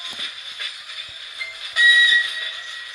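A train departs from Mukachevo station with a faint rail rumble and hiss, then a brief, sharp whistle cuts in partway through before the background settles again.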